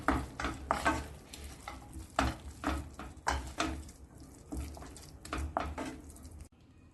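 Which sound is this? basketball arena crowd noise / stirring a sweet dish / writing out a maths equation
stirring a sweet dish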